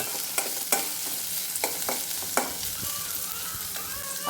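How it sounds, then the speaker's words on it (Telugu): Onions and curry leaves fry in a pan for uggani, a steady sizzle under repeated spatula taps and scrapes, close and fairly quiet. "కరివేపాకు వేసుకోండి వేసి కొంచెంసేపు వేసుకుందాము ఆనియన్స్ కొంచెం మెత్తబడేంత వరకు"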